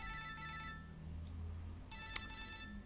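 Mobile phone ringing with an incoming call in a Turkish TV drama: two short bursts of a tonal ringtone separated by a pause, fairly faint over a low background hum, with no talking.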